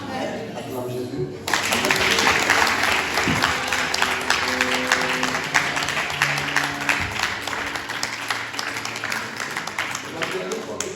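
Church congregation applauding in acclaim of Jesus during a special worship service, a dense, sustained wash of clapping that starts abruptly after a brief pause and carries on loudly, with voices and tonal music running underneath.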